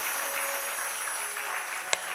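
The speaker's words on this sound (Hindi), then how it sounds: "ब्रह्मा जी के लिए ताली बजाइए" An audience at a Hindu devotional talk claps in honour of Lord Brahma, a steady, fairly faint patter of many hands ending with one sharp, louder clap near the end.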